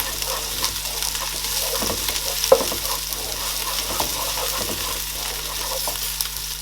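Onions, ginger and garlic fry in a pan with a steady, even sizzle, broken by a few scrapes and one sharp knock from stirring, and no talking.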